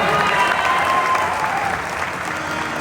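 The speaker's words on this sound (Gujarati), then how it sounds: "ભાઈ હજી એકવાર તાળીઓથી વધાવો" Loud, sustained applause from an audience at a live Gujarati Lok Dayro folk performance, dense clapping filling the whole stretch and easing slightly toward the end.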